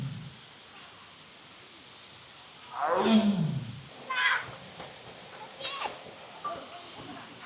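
Deep, rough growls from a Bengal tiger at a zoo in Melaka, Malaysia rise out of outdoor background noise, one long rumble followed by a few shorter grunts, heard from some distance.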